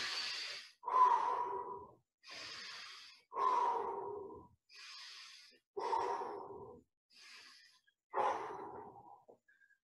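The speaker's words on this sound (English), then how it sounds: "Breathe that one out, five deep breaths." Deep, slow exhalations during an off-ice hockey training session, about eight separate breaths in a steady rhythm. Each is close, airy and sigh-like, with short silent pauses between them.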